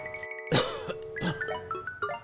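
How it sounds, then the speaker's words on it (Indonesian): A short, forced cough bursts out close by, followed by a second throaty cough amid a faint background tone. "Pura-pura batuk."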